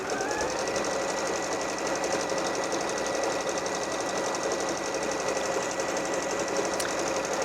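A Bernette b38 sewing machine stitching a stitch combination, a steady close mechanical whir with a fast, even rhythmic needle clatter running unbroken throughout, no voices.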